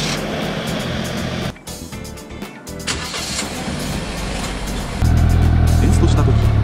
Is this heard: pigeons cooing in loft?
no